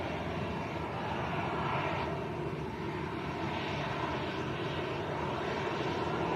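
A TUI airliner from Brussels lands at Lanzarote's Arrecife airport, its engines a steady, broad roar that holds constant at a distance with no voices over it.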